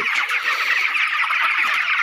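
A flock of broiler chickens in a poultry shed keeps up a dense, continuous chorus of clucking and cheeping, loud and close.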